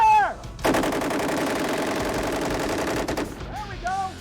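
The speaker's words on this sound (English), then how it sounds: "For a week, these Marines have been focused solely on the classroom study of the M240. Now, they fire." Marines in live-fire training fire an M240 machine gun in one sustained, loud, rapid burst lasting about two and a half seconds, bracketed by brief shouted voices before and after.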